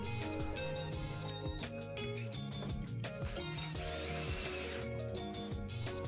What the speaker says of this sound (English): and then I'm going to put some screws in